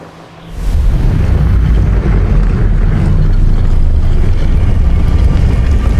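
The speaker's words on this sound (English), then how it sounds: "There's weird grinding sounds happening. Really loud ones." Loud, dense rumbling and grinding noise in the video game Hogwarts Legacy near a castle surges in after a brief quiet start and continues heavily throughout, with no talking.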